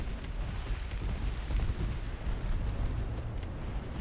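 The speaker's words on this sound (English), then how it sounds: "Oh, torpedo detonation." A torpedo detonates in the naval warfare game Ultimate Admiral Dreadnoughts, a deep, rolling explosive boom that rumbles steadily for a few seconds with no talk over it.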